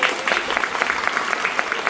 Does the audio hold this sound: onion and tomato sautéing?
no